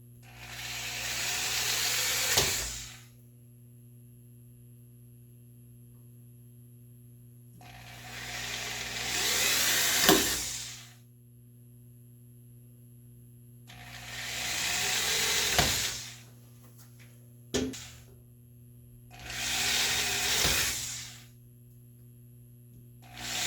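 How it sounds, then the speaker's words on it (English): A handheld power drill bores straight down through a row of pre-marked holes in wood, running in four loud whining bursts of a few seconds each, separated by pauses over a steady low background hum. "just drill through all of these holes"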